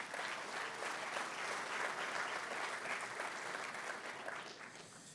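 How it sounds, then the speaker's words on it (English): A crowd claps in sustained, dense applause that fades slightly toward the end, at a Super Bowl LV kickoff event. "Let's give Michael a round of applause"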